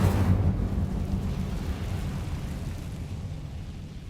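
Incendio fire spell cast in Hogwarts Legacy on PS5: a deep, rumbling burst that swells at once and slowly fades over several seconds, loud and close with no talk over it.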